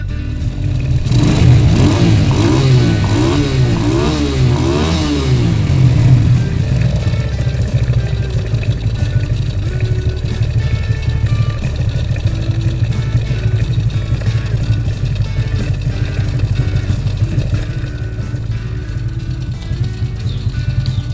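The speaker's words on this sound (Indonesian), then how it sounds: "Sekarang tinggal kita nyalakan motornya." A Honda Grand motorcycle engine starts and runs close by with rising revs at first, its steady mid-pitched idle then droning on loudly and continuously with no talk.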